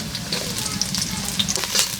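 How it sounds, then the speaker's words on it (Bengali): Onion and green chilies fry in hot oil with cumin seeds in a rural kitchen, a close, steady sizzle with small crackles and stirring scrapes throughout. "পেঁয়াজের মধ্যে কাঁচামরিচের মধ্যে জিরা ফোড়ন দেওয়া"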